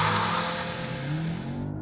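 A 2019 Volkswagen Arteon with a 2-litre turbo petrol engine launches hard under launch control, a loud, close, continuous engine roar filling the short moment.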